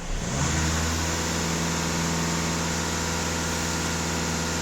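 A VW EA288 diesel engine rises quickly from idle to about 2500 rpm and holds there with a steady, loud, close drone and clear engine harmonics. No voices.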